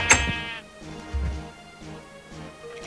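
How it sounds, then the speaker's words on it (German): Sheep bleating in the video game Minecraft, one loud, wavering bleat at the start followed by fainter game sounds and a second, softer bleat. "Da ist ein Schaf draußen."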